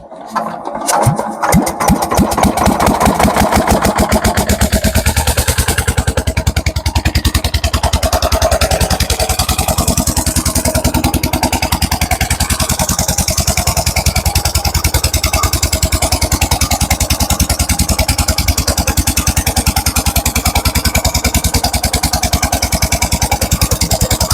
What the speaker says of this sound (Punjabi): ਇੰਜਣ ਜੋ ਖੇਤਾਂ ਵਿੱਚ ਲਗਾਇਆ ਪਾਣੀ